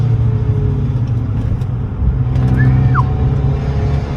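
Engine of a Stage 1 tuned Fiat 500 Abarth under throttle, heard from inside the car as a steady loud rumble with a brief rise partway through, no talk over it.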